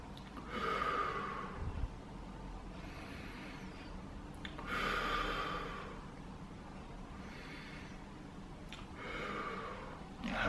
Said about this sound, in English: I'm just going to breathe here